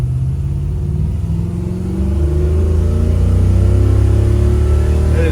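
A car pulls away in drive with its engine revving steadily higher and holding high RPM because the transmission is slow to shift into second, a loud, continuous rising drone with no voices.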